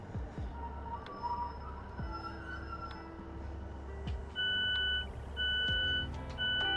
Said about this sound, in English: doors closed, so this door alarm.mp3 plays